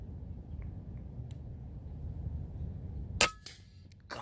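A single sharp crack from an FX Impact air rifle shot at an iguana at about 55 yards, heard close after a quiet outdoor lull, followed by a faint metallic clink and a second brief knock.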